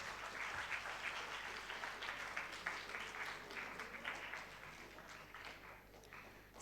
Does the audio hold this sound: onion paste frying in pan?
no